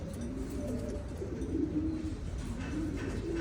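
Racing pigeons coo in soft, low, throaty repeated phrases close by, over a steady background hum, with no talk.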